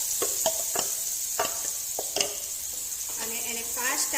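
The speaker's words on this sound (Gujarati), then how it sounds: "અને એને ફાસ્ટ આ રીતે હલાવ્યા કરવાનું છે।" A spiced dahivadi batter mixture is stirred fast in a pan, giving repeated scraping strokes over a steady sizzle, close and moderately loud with no talk.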